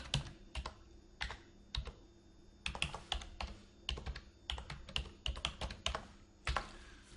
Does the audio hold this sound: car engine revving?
no